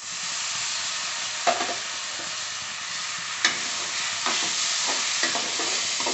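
Tomatoes hit a pan of hot oil with ground coriander, cumin and Kashmiri chilli, a loud steady sizzle close by, broken by a few sharp scrapes and clacks of a spoon stirring.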